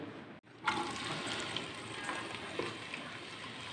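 One onion goes into hot oil for kabuli pulao, the sudden loud sizzle bursting in after a brief silent gap and then frying steadily up close.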